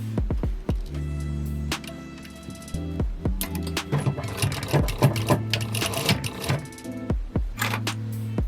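Sewing machine stitching bias binding along the upper seam of a wide-brim fabric sun visor, running in steady mechanical bursts with brief pauses between, close and loud throughout.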